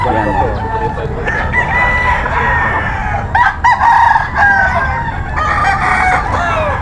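A stag rooster crows loudly and close, its drawn-out call rising and falling over a busy outdoor market with murmuring voices and background noise.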